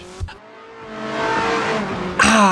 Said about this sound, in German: Mit sehr viel Tempo eingefahren in die Kurve.